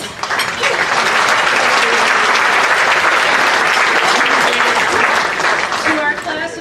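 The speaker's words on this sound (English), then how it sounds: "Have a round of applause for them." Loud, sustained applause from an audience at a senior athletic banquet, honoring graduating seniors; dense clapping fills the whole stretch with a few voices faintly mixed in.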